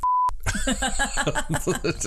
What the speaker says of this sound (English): I'm sorry, there was that beep again.